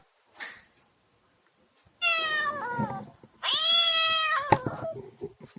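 A cat gives two drawn-out meows close by, one after the other, with a faint short sound before them and quiet gaps in between.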